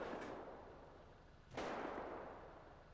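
A single sharp gunshot in a GTA roleplay game cracks out mid-way, fairly distant and faint against a hissing background, after a softer earlier report.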